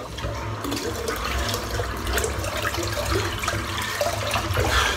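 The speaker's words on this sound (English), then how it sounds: "Just going to give that a good rinse off." An unscented Martin de Candre shaving soap bar is rinsed under running tap water, a steady close splashing stream that lasts throughout.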